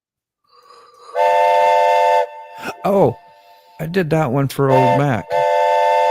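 Train whistle sound effect blown in several sustained blasts with short toots between, loud and close, with people talking around it.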